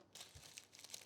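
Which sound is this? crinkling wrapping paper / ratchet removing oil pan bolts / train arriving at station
crinkling wrapping paper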